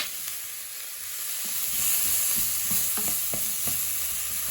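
A pot of chili cooks on the stove with a continuous, fairly loud sizzle and scattered clinks and scrapes from stirring, and nobody speaks.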